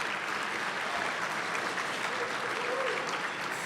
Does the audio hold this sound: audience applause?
yes